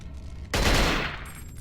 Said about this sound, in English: I guess we can shoot this guy as well